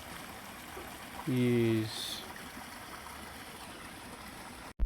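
Clean stream water in Kenya flows with a faint, steady babble throughout. A voice briefly says a word over it, and a sharp click sounds at the very end.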